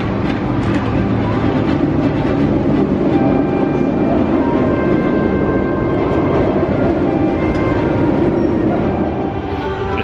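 A B&M inverted roller coaster, Nemesis Inferno at Thorpe Park, thunders past with a loud, continuous rumbling roar and rattle of the train on its track, sustained throughout.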